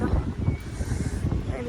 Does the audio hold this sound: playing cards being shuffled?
no